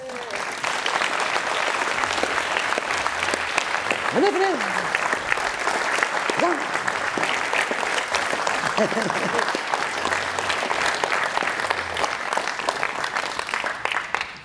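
An audience at a French campaign rally breaks into strong, sustained applause that lasts the full length. A few short spoken calls rise briefly over the clapping.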